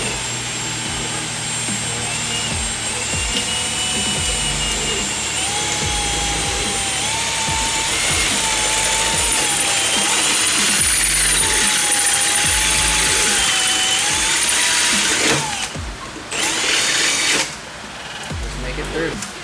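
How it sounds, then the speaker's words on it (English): A power drill drills holes while installing a gullwing onto a fifth-generation Toyota 4Runner, a steady, whining motor drone running for a long stretch, pitch wavering slightly as the bit bites, then stopping and restarting briefly near the end. "Just kind of let the drill bit do the work."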